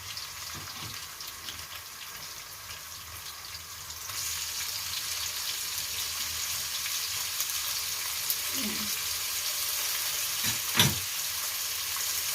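Ginger and tomato sautéing in a pan, a steady close sizzle that swells louder partway through as the tomato goes in, with occasional stirring scrapes and a brief thud near the end.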